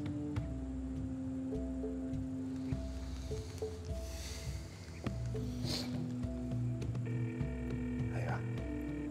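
A mobile phone is being dialed, its keypad giving short electronic tones in quick succession. The beeps sit among muffled voices and background noise in a casual indoor scene.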